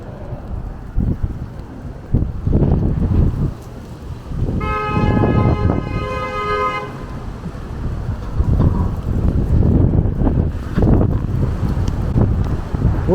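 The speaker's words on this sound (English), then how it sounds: "Ooh, it's quite windy." Gusty wind buffets the microphone on a Brooklyn street, rumbling in uneven surges throughout, with a brief tonal horn-like toot sounding partway through.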